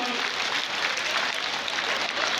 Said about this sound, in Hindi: जोर के ताली बजा ही सकते हैं आनंद के साथ